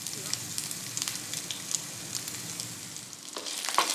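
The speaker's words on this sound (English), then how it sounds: "We're gonna heat a little oil in our skillet and we're going to cook that sausage." Sausage fries in a little oil in a skillet, giving a steady, moderately quiet sizzle and crackle with scattered small pops and a brief stirring scrape near the end.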